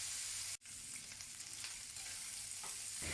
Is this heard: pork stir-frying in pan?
yes